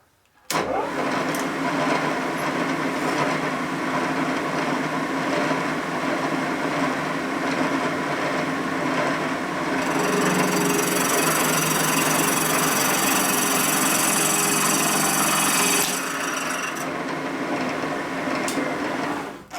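A lathe boring bar takes heavy cuts through hard aluminum that has been welded with a harder filler material, making a loud, continuous grinding machining noise that turns brighter and harsher through the middle stretch, with no talking.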